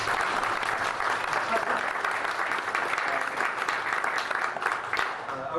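Steady, sustained audience applause filling a hall at a fan expo session about making a DVD, a dense even wash of many hands clapping throughout.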